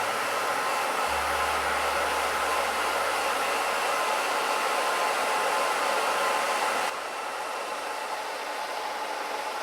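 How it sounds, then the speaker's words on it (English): A hair dryer blows with a steady, loud whooshing hiss, its motor note shifting partway through as the setting or angle changes. "Now go ahead and grab your blow dryer."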